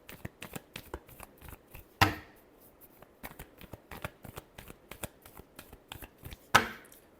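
Tarot cards are shuffled by hand in a steady run of short crisp riffles and taps, with two sharper, louder bridging riffles standing out, close up and alone without talk.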